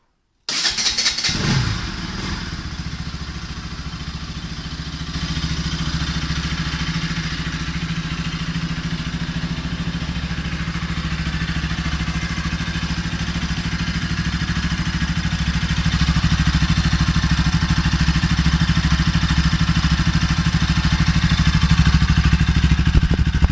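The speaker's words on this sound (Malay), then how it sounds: "kita start engine kita dengar bunyi exhaust dia macam mana" A Bajaj Pulsar NS200 motorcycle engine cranks and fires, then settles into a steady close idle with a throaty exhaust note that rises slightly later on, continuous and loud.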